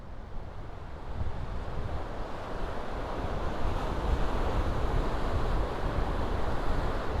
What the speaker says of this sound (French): On doit entendre les vagues d'ailleurs là.